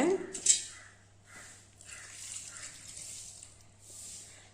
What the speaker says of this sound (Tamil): கொஞ்சம் தண்ணி ஊற்றிக்கலாங்க